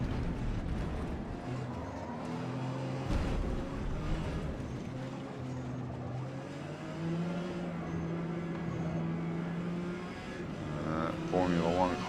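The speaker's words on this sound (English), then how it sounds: "this guy here is one of those old Formula One cars, just flying past us like we're not even there." An old Formula One car in Forza Motorsport screams past during a P class race at Grand Oak Raceway, its engine pitch climbing and falling across the clip, with loud continuous engine drone and a voice talking over it.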